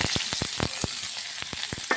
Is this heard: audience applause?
no